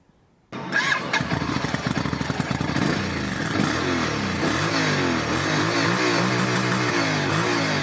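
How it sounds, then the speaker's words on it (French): After a brief silence, a motorcycle engine fires up close by and revs repeatedly, the pitch rising and falling before settling into a rough idle. "Le petit son du moteur. C'est parti."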